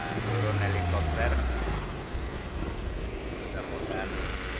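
A helicopter lands amid floodwaters in Aceh Tamiang, its rotor and engine drone low and steady throughout, loud and close at first with a descending whine, while people talk over it.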